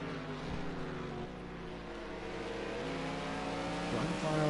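GT3 race car engines roar around Sonoma Raceway in a sim racing game, a loud continuous drone with shifting pitch as cars pass, under faint commentary.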